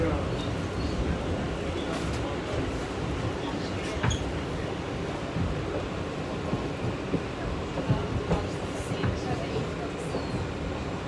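An R160 subway train on the N line between Newkirk Plaza and Beverly Road, heard from on board, rumbles steadily over the rails with rail-grinding wear and occasional clanks. A voice speaks intermittently over the continuous noise.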